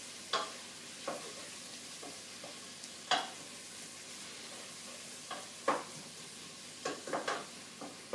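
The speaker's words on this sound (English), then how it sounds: "I'm going to stir. I wish I could show you. We're only just starting to brown." Onions, celery and carrots just beginning to brown in a pan give a quiet background sizzle, broken by sporadic sharp scrapes and knocks of a utensil stirring against the pan.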